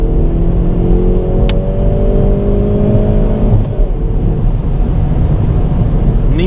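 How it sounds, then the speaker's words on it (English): A Hyundai i30 N Performance in sporty N drive mode gives a loud, steady exhaust drone with rising engine tone from inside the cabin, holding a constant level throughout. "Press the sport mode once or twice, you get in that N mode, and that is really cool how the exhaust system picks up and how loud it gets."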